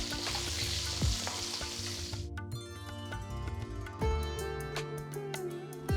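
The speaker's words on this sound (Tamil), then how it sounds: "நெக்ஸ்ட் 15 சின்ன வெங்காயம் சேர்த்து வதக்குங்க." Small shallots sautéing in a pan with asafoetida and curry leaves for Andhra-style sambar, a steady loud sizzle with a few stirring scrapes and clinks, no voices.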